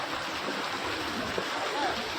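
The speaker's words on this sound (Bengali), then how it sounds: "এই দেখো ওই ঝর্ণাটা" A waterfall at Jayanti Mahakal pours in a steady, even broadband rush, close and continuous, with a faint splashing texture and no clear break throughout.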